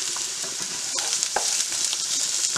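Onions frying in a pan for venison baked spaghetti, a steady close sizzle and crackle with occasional louder pops and spatters, heard alone without talk.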